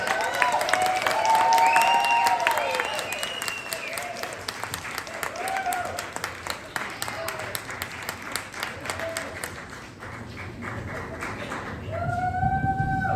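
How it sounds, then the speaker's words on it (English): A comedy-show crowd in Hobart applauds long and loudly, a dense wash of clapping that eases slightly midway before rising again, with voices calling out and talking over it. "keep the applause going for our second speaker tonight"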